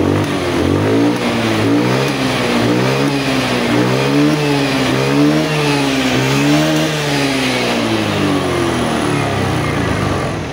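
Fuel-injected motorcycle engine running close by, revved repeatedly in rising and falling sweeps over a steady idle, loud and continuous with no talk.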